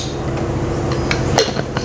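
Mustard seeds tempering in hot oil in a pan on a home stove, a steady close sizzle with scattered tiny pops and a few metallic clinks of a utensil against the pan.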